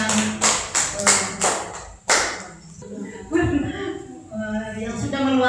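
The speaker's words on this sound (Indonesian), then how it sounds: "Sekali lagi kita tepuk tangan juga untuk Bapak Pengawas" Audience clapping for a school supervisor at a school principal performance observation event, a few bursts of claps in the first two seconds followed by a speaking voice and further scattered claps.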